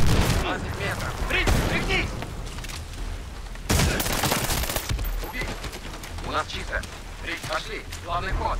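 Heavy shotgun blasts from a Remington 870 in Medal of Honor Warfighter, booming amid continuous battle noise while voices talk over the action.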